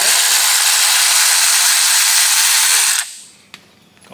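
A power tool spins off a 9/16 bottom bolt on the starter bracket of a Jeep Grand Cherokee, a loud, steady whirring buzz for about three seconds that stops abruptly, followed by a faint clink.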